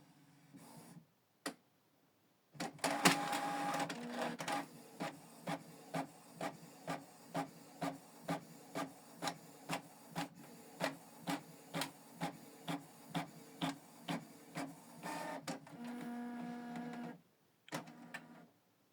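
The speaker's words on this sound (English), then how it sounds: "Select print on one side and also want to print it in monochrome." A Canon TR4755i inkjet printer prints a monochrome document, beginning with whirring startup motors and then settling into a regular series of soft clicking and feeding pulses before a final motor whir, close and quiet.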